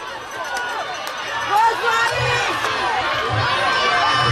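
Crowd cheering and shouting, children among them, at a primary school sports meet during the final lap of a race, a steady roar of voices with swells of louder shouts throughout.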